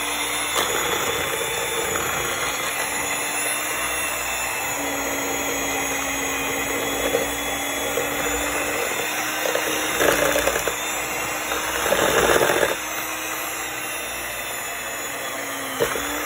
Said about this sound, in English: we are going to mix for about 3 minutes on a 2-speed or 3-speed, so medium speed